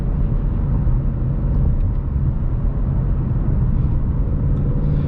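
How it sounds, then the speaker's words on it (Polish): A Ford Mustang GT 5.0 V8 fitted with an MG exhaust gives a deep, steady rumble, loud and close, holding an even tone throughout with no voices. "ten wydech z MG robi robotę w tym samochodzie"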